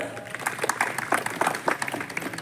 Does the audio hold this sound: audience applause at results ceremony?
yes